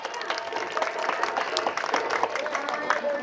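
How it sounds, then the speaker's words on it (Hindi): Audience applause greeting the chief guest at a committee ribbon-cutting during a Dr. Bhimrao Ambedkar Seva Samiti drama programme in Barhupur; steady, dense clapping with a crowd murmur throughout, fairly close and moderately loud. "आप सभी उनका स्वागत तालियों के साथ।"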